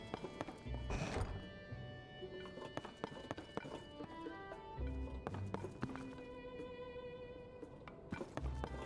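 Horse hooves clip-clopping at a gallop with repeated neighs and whinnies in The Legend of Zelda: Tears of the Kingdom, set against the game's steady musical backdrop, with bursts of louder hoofbeats throughout.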